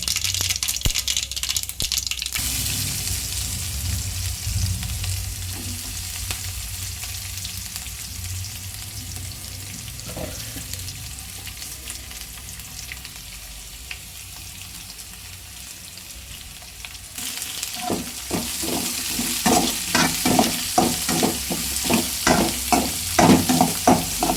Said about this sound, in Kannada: ಸಾಸಿವೆ ಹಾಕ್ಕೊಳ್ತಾ ಇದ್ದೀನಿ ನಂತರ ಅಷ್ಟೇ ಜೀರಿಗೆ ಹಾಕ್ಕೊಳ್ತಾ ಇದ್ದೀನಿ